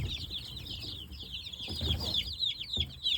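A young dark Cornish meat chicken chirps and peeps in quick, high repeated calls, close by, with soft rustling and bumping beneath.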